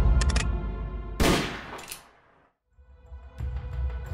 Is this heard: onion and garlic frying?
no